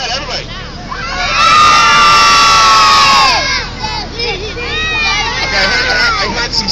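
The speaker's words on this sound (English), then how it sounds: "And we have to scream out how old you are." A crowd of children on a hayride shout out their ages together, a loud sustained burst of overlapping voices that swells, dips and rises again.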